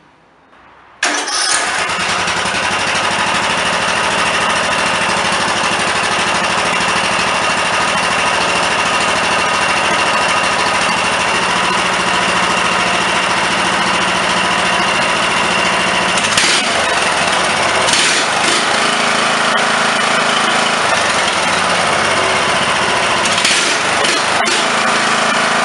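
A tractor engine fitted with a repaired, previously flooding Walbro carburetor cranks, catches and then runs steadily and loudly close by for over twenty seconds, with brief revving swells partway through.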